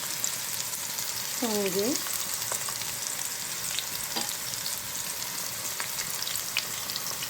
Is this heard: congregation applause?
no